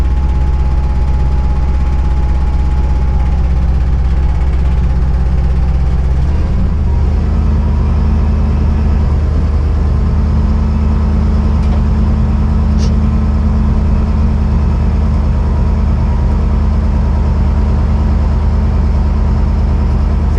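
A Kenworth heavy truck engine runs steadily with a loud, deep idle rumble, and its tone shifts partway through as the revs change. No one speaks.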